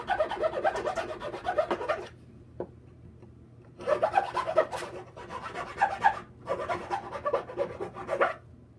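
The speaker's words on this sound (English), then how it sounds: "Let's take a rasp and just clean it up a little bit." A wood rasp scrapes along a wooden bed leg in bursts of quick back-and-forth strokes, close and moderately loud, separated by short pauses.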